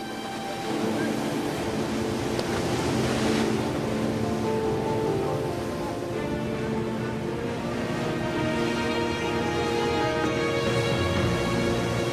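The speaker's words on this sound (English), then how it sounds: "Strong winds and wild seas are the greatest threat to this mission." Rough sea surging and crashing over a steady roar of strong wind gusting up to 30 knots, loud and continuous, with a faint voice in the background.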